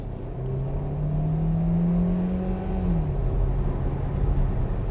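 A Hyundai Tucson hybrid engine revs steadily as the SUV accelerates, a smooth rising hum that holds for a few seconds, then eases back down to a calmer drone.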